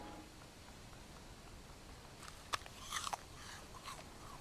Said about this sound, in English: My bear's eating all my bloody what do you call it, fibre